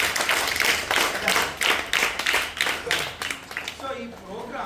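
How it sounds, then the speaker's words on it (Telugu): An audience at a free abacus training event for students claps loudly in rhythmic bursts, and a voice speaks as the clapping ends. "గట్టిగా చప్పట్లు కొట్టండి."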